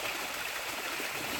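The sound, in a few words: small waterfall on a stream near the Narmada river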